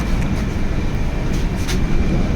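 A train rumbles close and loud in a steady low roar with faint rattling, the brief sound holding constant with no voices.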